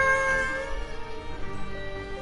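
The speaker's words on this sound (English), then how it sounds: "I love the way he meows." A male cat meows in a drawn-out, crying tone indoors, mixed over steady game music and background sounds.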